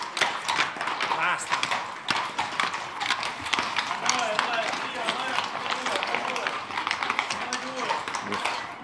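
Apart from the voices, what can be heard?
horses' hooves clip-clopping at a festival parade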